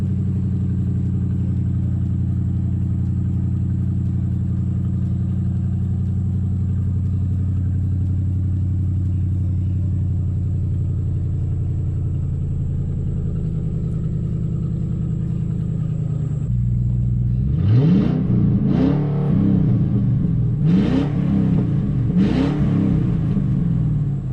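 A Ford 4.6 V8, in an older repainted car, idles with a steady low rumble before a sharp start-up burst near the end, followed by several loud, quick revs close by with no talking.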